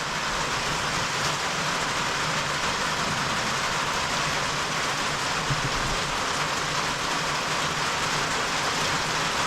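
Rain drums steadily on a tin roof, a dense, unbroken hiss of drops that holds an even loudness throughout with no voices.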